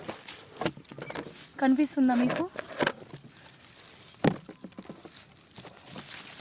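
Shrill, high chirping from baby birds in a nest comes in short repeated bursts, close by, while someone speaks between and over the calls.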